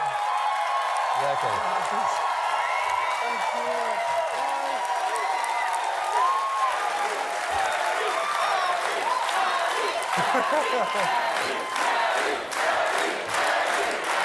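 A large crowd cheers, shouts and applauds continuously, a dense and loud roar of voices and clapping that stays steady throughout, with individual whoops rising out of the din.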